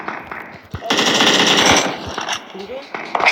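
Rapid automatic gunfire in a video game, a dense burst of shots lasting about a second, followed by a few scattered shots, loud and close, with a voice speaking briefly around it.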